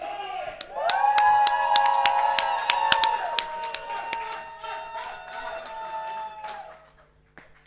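An esports crowd at a League of Legends event roars with cheers, whoops and whistles over steady clapping, swelling loudly after a shouted prompt, holding for several seconds, then fading away.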